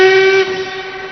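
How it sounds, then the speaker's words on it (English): A departing London train sounds its whistle, a loud, steady, close tone with rich overtones that eases slightly after a moment and then holds, with no voices. "Weren't we supposed to get that train? Was that the London train?"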